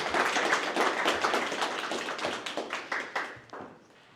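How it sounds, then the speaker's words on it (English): A live audience at a developer tech talk session claps in a dense round of applause that fades out after about four seconds, with no voices over it. "Let's give her a round of applause."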